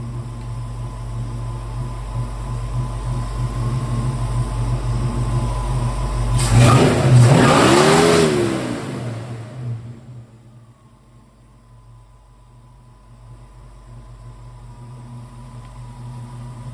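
The engine of a 1963 Ford Falcon Sprint runs steadily, rises in a brief rev, then settles back to a low, even idle.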